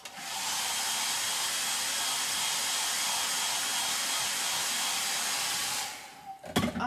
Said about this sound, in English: For the sake of time, I'm just drying it off.